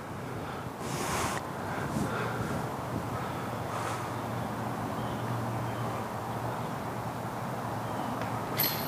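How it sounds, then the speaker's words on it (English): Light wind blows outdoors at a golf course, producing a steady, soft rush of wind noise on the microphone with a few stronger gusts. No voices are heard. "He's probably only got about a 3 to 5 mile an hour wind out here right now."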